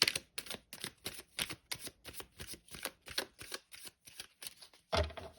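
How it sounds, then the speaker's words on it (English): A tarot deck is riffled and shuffled by hand in a quick run of crisp card bursts, about a dozen close, fairly quiet flutters in an uneven rhythm ending with a slightly heavier tap, with no voice. "one last shuffle"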